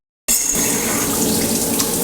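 Shower water bursts on suddenly after a brief silence and keeps running as a loud, steady, close hiss and splash.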